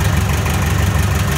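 A 986 tractor engine idles steadily in cold weather, a loud, continuous low rumble with no breaks or changes in pace.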